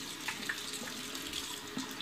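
A tap runs steadily into a sink to heat a Bolzano Superinox razor, a constant close hiss of splashing water with no talk.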